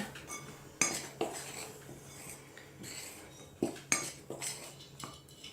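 A spoon stirs flax seeds and raisins in a bowl, making soft scraping with several sharp clinks against the sides, close and quiet, with no voices.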